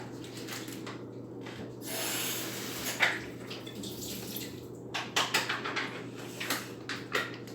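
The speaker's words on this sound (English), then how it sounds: "Gave that a rinse" Pickles rinsed under running kitchen water before being cut for frying, a steady rushing and splashing stream with rubbing and a few sharper knocks toward the end, close and alone.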